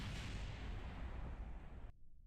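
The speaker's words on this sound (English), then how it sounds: "that explosion scared me for a second." A loud, rumbling video game explosion fills the clip with a deep, sustained roar before cutting off sharply near the end.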